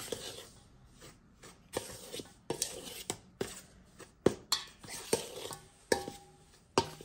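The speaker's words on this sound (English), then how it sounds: "we'll give this all a really good mix" A spiced rasgulla dough mixture is stirred in a bowl, with repeated scraping and tapping knocks of the utensil against the bowl in an uneven rhythm, close and fairly quiet.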